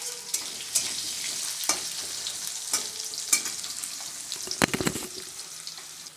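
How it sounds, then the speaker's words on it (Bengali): Thin-cut potatoes fry in a pan while being lightly browned: a steady, close sizzling hiss broken by scattered clicks and a brief burst of scraping stirring near the end, with no voices. "এবার আলুগুলো একটু হালকা লাল লাল করে একটু ভেজে নেব"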